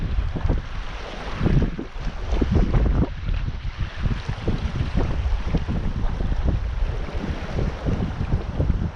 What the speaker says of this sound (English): It's not too much of an issue, the wind here, because this is the direction you want to be fishing in anyway.